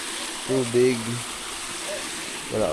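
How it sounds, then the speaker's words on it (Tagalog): Water draining out of a fishpond toward a river, a steady rushing wash running under brief bits of talk from a man nearby. "Bumababa ang tubig sa papunta ng ilog."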